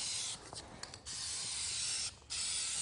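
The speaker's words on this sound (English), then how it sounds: "Whenever spraying, just hold the can about 8 to 10 inches from the surface" A DupliColor Perfect Match aerosol spray paint can hisses steadily close by as paint is sprayed on a truck, the loud continuous spray broken by two short pauses.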